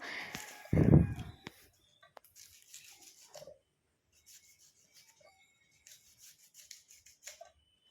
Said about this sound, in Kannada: ಒಂದು ಈರುಳ್ಳಿ ಎರಡು ಈರುಳ್ಳಿನ ತೊಗೊಂಡು ಕಟ್ ಮಾಡ್ಕೋತಿದ್ದೀನಿ ನಾನಿಲ್ಲಿ